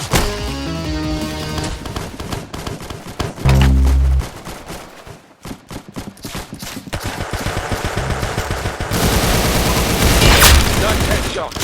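Rapid gunfire from the shooting video game Arsenal fills the clip with repeated close, punchy shots and bursts, a heavy boom midway and dense automatic fire toward the end, mixed with game music and effects.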